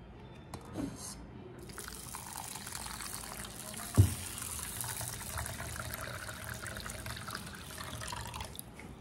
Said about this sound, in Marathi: मी दोन्ही एकत्र करते आणि याला स्वच्छ असं पाण्याने धुवून घेते 2दा।